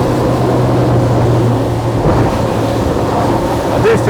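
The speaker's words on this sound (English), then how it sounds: "I trim up on the engine, and we're straight back up about 40 knots." An Axopar 25 motorboat roars steadily at about 40 knots, engine drone mixed with wind buffeting and rushing water, loud and continuous with no talking.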